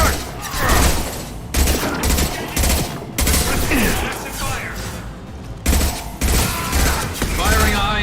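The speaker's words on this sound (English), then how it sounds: "Firing a high-impact shot." Mass Effect 2 gunfire in a combat scene, bursts of rapid automatic shots in several loud volleys separated by brief pauses, with scattered voices and battle noise underneath.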